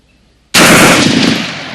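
A standard AR rifle fires a single loud, close burst that starts abruptly and rings out for over a second after a moment of quiet.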